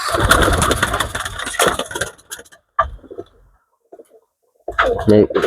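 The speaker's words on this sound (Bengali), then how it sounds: "টেরি কবুতরটি খুবই ভালো ডাকতেছে" Pigeons cooing at a pigeon farm, several loud, close throaty coos and rustles at the start, a quiet gap with a few scattered sounds, then more cooing bursting back in at the end.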